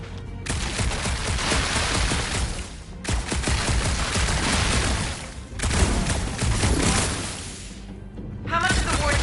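Dense bursts of gunfire in the Guardians of the Galaxy video game, continuous loud volleys with brief gaps, mixed with booms and game noise.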